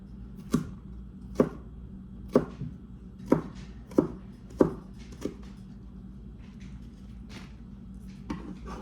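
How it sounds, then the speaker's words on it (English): A knife chops peppers roughly on a cutting board in a steady series of close, sharp thuds, about one each second, then a few lighter, scattered cuts. "Guess we're just giving a nice rough chop."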